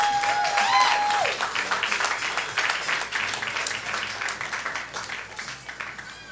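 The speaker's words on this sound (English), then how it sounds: "Applause" A crowd at a community art and coffee stage event claps and cheers in sustained applause that gradually fades, with a brief electronic tone near the start.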